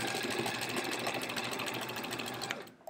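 Close, steady whirring and rapid needle chatter of a sewing machine stitching binding onto a quilted wall hanging, running continuously for nearly three seconds before stopping abruptly.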